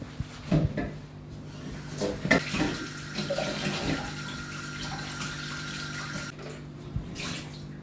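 Tap water runs steadily into a sink while potatoes are washed, with soft splashing, a few knocks and clunks near the start, and a faint background hum throughout.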